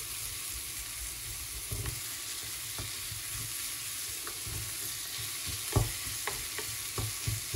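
Onions stirred slowly in a pan over low heat, a steady soft sizzle under repeated scraping strokes, with a few sharper utensil scrapes near the end; close and fairly quiet, no talking.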